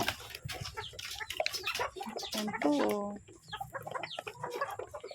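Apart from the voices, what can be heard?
hens clucking while being fed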